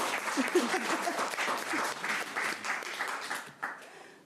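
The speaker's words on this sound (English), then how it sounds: "please clap for yourselves" Workshop audience clapping for themselves at the end of a panel session, a fairly soft, steady patter of many hands with some livelier individual claps, ending abruptly with a few stray claps.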